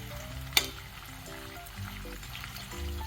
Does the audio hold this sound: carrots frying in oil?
yes